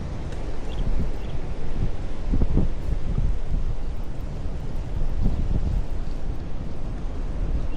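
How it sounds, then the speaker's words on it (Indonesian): Strong wind buffeting a microphone at a coastal fishing spot in Pagak, Malang, East Java: a continuous loud roaring rumble with gusts swelling and easing throughout, no voices. "Anginnya gede banget ini. Angin terbesar di Pagak yang pernah tak alami."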